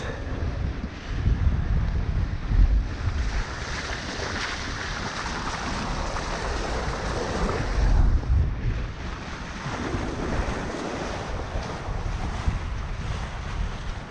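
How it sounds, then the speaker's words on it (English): Wind rushes steadily over the microphone while water washes along the hull of a Bavaria 41 yacht sailing fast on flat seas, a continuous close roar with gentle swells in loudness and no talking. "This is what I call sailing. Flat seas, enough wind to do 7 knots."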